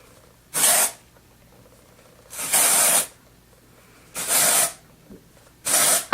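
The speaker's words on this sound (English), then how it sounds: "I'll go in and spray sections." Aerosol dry shampoo sprayed onto sections of hair in four separate bursts of hissing spray, each lasting about half a second, with quiet pauses between them.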